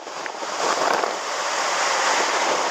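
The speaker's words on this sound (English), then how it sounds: "Wow, I can lean into this wind" Strong wind sweeps across the Jokulsarlon glacier lagoon on Iceland's south coast, a steady loud roaring rush that buffets the microphone throughout.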